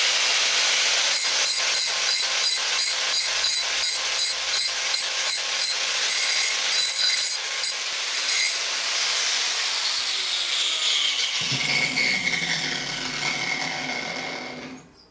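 A power tool grinds and scrubs at a steel exhaust pipe being cleaned up for welding. The tool sounds loud and close with a steady rasping, pulsing at first, then drops into a lower whirring hum before winding down at the end.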